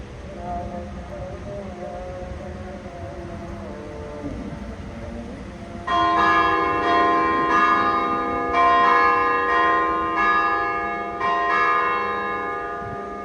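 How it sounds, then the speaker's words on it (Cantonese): Bells of an Orthodox church in Albania ring out after several seconds of quiet outdoor background, a loud, resonant series of repeated strikes that keep sounding steadily to the end. "另一邊咧就係呢個東正教呢個教堂嘅鐘聲啦"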